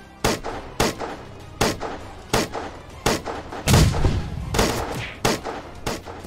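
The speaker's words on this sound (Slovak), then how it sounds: "Prečo nás tam strieľajú" Gunfire in a war video game: about a dozen sharp, loud shots crack out at irregular intervals, some landing as heavier, booming blasts with longer tails, and no voices between them.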